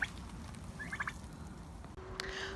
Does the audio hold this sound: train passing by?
no